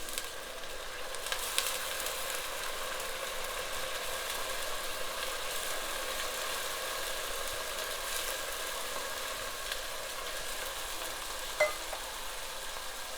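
Rice and lentils tumble into a pan of sizzling onions for kitchari, giving a steady, even frying hiss throughout with a faint stir and a brief clink near the end, no talking.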